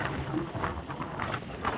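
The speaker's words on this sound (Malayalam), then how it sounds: "കാറ്റ് സൗണ്ട് നിങ്ങൾക്ക് കേൾക്കാൻ പറ്റുന്നറിയാം നല്ല കാറ്റുണ്ട്" Steady wind roaring and buffeting over open water, a continuous blustery rush with low rumbling gusts and no voices.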